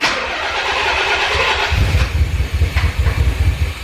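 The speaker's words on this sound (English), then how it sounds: "So now we're gonna start the car" A Nissan 300ZX twin turbo engine cranks with a whirring starter, then catches and settles into a loud, lumpy, pulsing idle close by.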